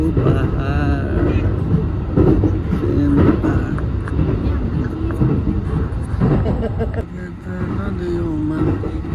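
A steady train rumble rolls on through a ride in Japan past fields, hills and houses, with someone talking over the noise almost the whole time.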